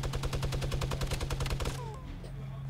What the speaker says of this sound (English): Keep firing on them with the mini.